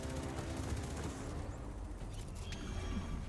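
Sustained gunfire from weapons in the video game Destiny 2, during a Vow of the Disciple raid, forms a dense, continuous rattle of shots and booms at steady loudness with no talk over it.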